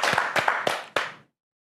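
A small group claps in a few loose, distinct bursts, four clustered claps close to the mic over about a second, then silence.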